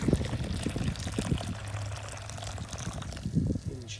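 Water poured into a container holding a Corgi Ferrari 312 B2 die-cast model ahead of a caustic soda paint strip, a steady nearby splashing pour lasting several seconds with brief low knocks.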